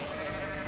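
Sheep in a kingdom-building game let out a short, faint bleat that sounds alone against a soft ambient background.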